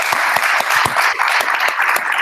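An audience round of applause at a live event, continuous close clapping from a room full of people at a steady, fairly loud level.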